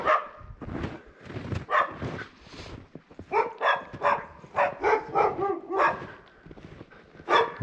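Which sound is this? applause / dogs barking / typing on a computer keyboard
dogs barking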